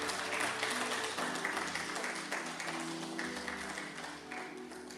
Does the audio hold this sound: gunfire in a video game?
no